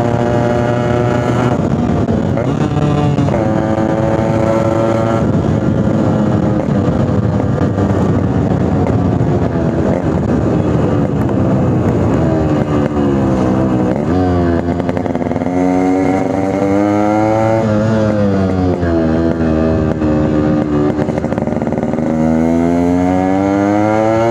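Yamaha RX100 two-stroke motorcycle with a brass-core silencer, its exhaust beating loud and close as the engine idles and revs up and down repeatedly, a rising and falling throaty drone throughout.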